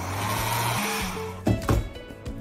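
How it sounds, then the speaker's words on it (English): A handheld hair dryer blows over a watercolor painting on cold-pressed paper, a steady close motor whine that shifts pitch and then stops, followed by a few brief knocks. "In order to speed up this process, I'm gonna use my handy dandy hair dryer."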